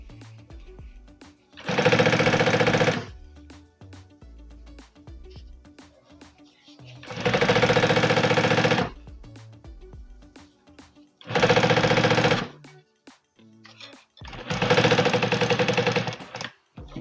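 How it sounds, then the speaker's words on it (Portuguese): Sewing machine topstitching a bucket bag, four separate loud bursts of rapid, even stitching, each a few seconds long, with quiet handling of fabric in the pauses. "E aqui eu faço um pesponto nessa parte inteira aqui, bem retinho, que aqui já é pesponto de acabamento"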